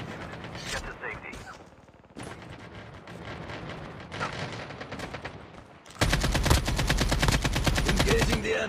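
Automatic gunfire in the Call of Duty Mobile Alcatraz map, bursts of rapid shots with mechanical clicks, growing into a loud sustained volley near the end.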